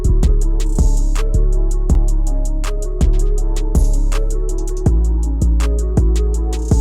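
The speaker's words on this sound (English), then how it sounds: "And so in mono, my beat sounds something like this." A producer's beat plays back in FL Studio with the mix folded to mono: a loud, punchy loop with heavy kicks on a steady pulse, crisp hi-hats and sustained bass and chord tones, with no voices over it.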